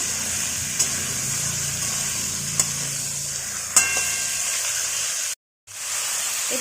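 A cucumber and prawn curry, just salted, is stirred in a hot pan. A moderate, steady sizzle is punctuated by a few spaced clicks of the spoon against the pan before a brief dropout.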